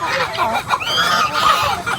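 Several male turkeys gobble and honk loudly up close in a busy, overlapping chorus.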